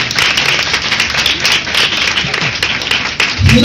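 A church congregation applauds loudly and steadily, a dense, continuous wash of clapping hands that holds for several seconds without a break.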